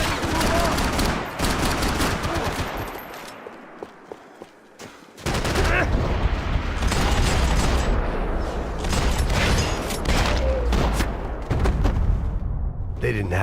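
Heavy gunfire in the video game Max Payne 3, rapid loud bursts of shots and booms that pause briefly and then return in a dense barrage, with shouted voices mixed in.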